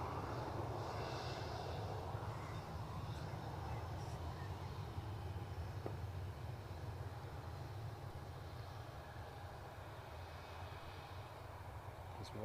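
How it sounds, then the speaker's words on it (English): An easyJet airliner rolls down the runway at Newcastle airport, a faint, distant, steady engine rumble that holds for the whole stretch. "The Bristol bound easyJet is about just over halfway down the runway"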